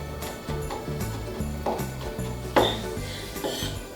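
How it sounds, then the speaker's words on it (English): A spoon scrapes and clinks steadily against a metal pot of milk on the stove, a repeating rhythmic stirring with occasional sharper knocks. "go stir my milk so it doesn't scorch"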